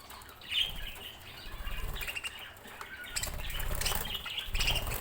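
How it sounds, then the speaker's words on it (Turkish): A group of two-month-old budgerigars in a cage flutter their wings and chirp nearby, with bursts of flapping and scattered high tweets over a continuous busy rustle. "Şu an 9 tane burada muhabbet kuşumuz var. 2 aylıklar."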